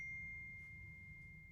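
A phone gives a single soft message-notification ding, a thin sustained tone that rings out and fades, heard faintly over a quiet low background hum with no voices.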